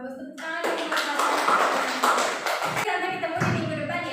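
A classroom claps together after a student reads a folk tale in a microteaching lesson, a burst of dense clapping that rises quickly and then thins out, with voices in the background.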